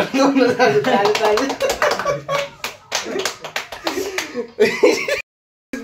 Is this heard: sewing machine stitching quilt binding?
no